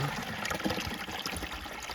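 Spring water flows out without a pump, a continuous close trickle and splash that stays fairly even for two seconds, with no talking.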